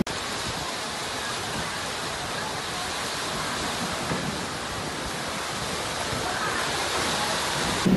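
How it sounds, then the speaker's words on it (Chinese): Heavy rain pouring down during a hill hiking race in Sabah, a loud, broad, continuous wash of falling water with faint voices underneath. "你看那一帮下去就下大雨"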